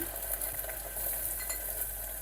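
Onions fry in a steel pressure cooker with cumin and mustard seeds for a tomato curry, a soft sizzle with scraping stirs and light clinks of a utensil against metal, fairly quiet and with no talk.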